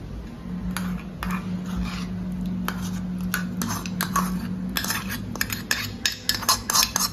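Utensil scraping and clinking against a pan while mixing vada pav potato filling, irregular metallic taps and scrapes growing busier toward the end, close and clear, no talking.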